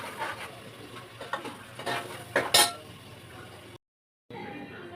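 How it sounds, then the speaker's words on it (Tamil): A spoon stirs ginger-garlic paste in a pan for a fish kulambu, giving a few scraping clinks and light sizzling over soft background noise, then a brief silent gap before quiet sound returns. "தட்டி வச்சுருக்க இஞ்சி பூண்டையும் போட்டு நம்ம நல்லா அதில் பேஸ்ட்டை வந்து நல்லா கிண்டி விடணும்"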